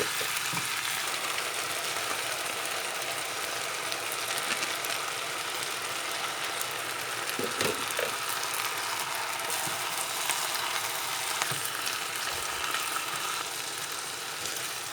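Purslane greens cooking in a pan, a continuous soft sizzle with occasional stirring scrapes and clicks, steady and close, no speech.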